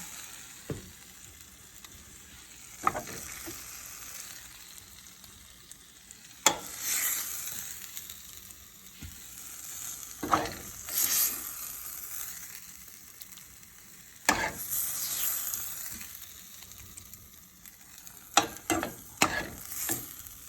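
Food sizzling and frying on a hot pan while spoonfuls are dropped and spread, with close scrapes and clinks of a spoon and a steady hiss swelling with each addition; no talking.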